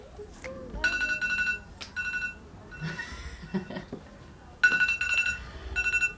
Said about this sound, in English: The timer is done.